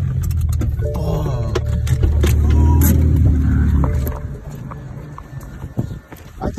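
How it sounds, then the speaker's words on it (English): A BMW N54 335i engine with blown stock turbos runs loud and rough at close range, its low rumble steady for about four seconds before dropping back, with people talking over it. "I think you just blew your turbos."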